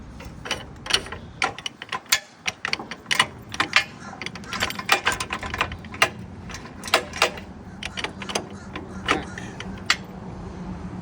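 A ratchet loosens the arm bolts on a standard system being installed, giving a long run of quick, sharp clicks in irregular bursts over a faint mechanical background.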